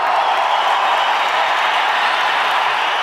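An audience at a stage event gives loud, sustained applause, a thick, even roar of clapping that holds steady from start to finish.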